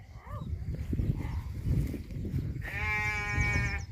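A dairy cow on a farm, part of a household herd kept for milking, gives a long drawn-out call in the second half, loud and close over low rumbling background noise, after some fainter earlier calls.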